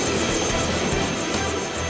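Cartoon helicopter in flight, a loud, close, continuous whirring roar with a steady pulsing rotor chop throughout, no voices.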